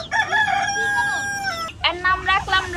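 A young rooster crows loudly and close by: a long, strained call, then a shorter broken one with clucking at the end.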